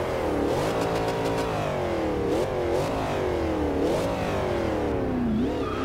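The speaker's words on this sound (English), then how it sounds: "Awesome sound there for an SUV. Wonderful for a supercharged V8." A supercharged V8 Range Rover SUV in the racing game Forza Horizon 2 revs hard and continuously, its engine note climbing through several gears with short dips at each shift, loud and steady throughout.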